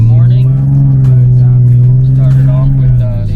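A tuned Infiniti G37 with a VQ V6 engine runs close by, holding a loud, steady low rumble with a slight rise and fall in pitch throughout.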